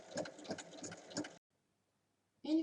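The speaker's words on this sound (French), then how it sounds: "On va faire une surpiqûre à 1 mm sur tout le tour du sac." Sewing machine topstitching 1 mm from the edge around a fabric bag, a fairly faint, pulsing mechanical hum that stops partway, leaving a silent gap, then starts again briefly.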